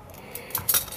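Metal spoons clink together in a few bright, close taps near the end of a brief, quiet stretch.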